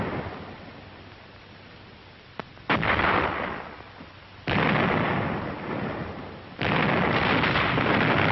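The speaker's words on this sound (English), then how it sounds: "Enemy mortars and artillery were still zeroed in on the path of our advance." Wartime artillery and mortar fire from a 1945 film soundtrack, with heavy booming blasts arriving in separate loud bursts and long rumbling roars that sustain between impacts.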